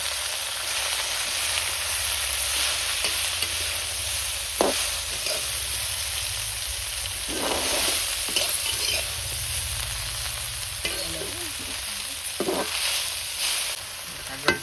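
Leafy greens (saag) frying in a pan with garlic and onion, a continuous even sizzle broken by occasional scraping and stirring clatters.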